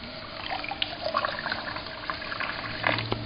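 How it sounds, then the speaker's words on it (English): Water trickles and splashes steadily as a small water fountain pump returns it into an esky cooler during a copper reflux column still run, a continuous close, bubbling flow. "I'll just let our oil return back into the esky using a little water fountain pump."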